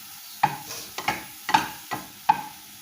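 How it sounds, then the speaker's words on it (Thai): Pork stir-fries in a hot pan for fried rice, with sharp scraping spatula strokes coming roughly twice a second over a soft sizzle, close and with no speech. "ผัดหมูก่อน"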